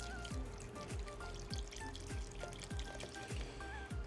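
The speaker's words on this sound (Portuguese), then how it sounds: "E eu acrescento a água de coco." Coconut water poured into a container in a home kitchen, with a steady run of rhythmic glugging gurgles over a continuous low wash of liquid, close and moderately loud.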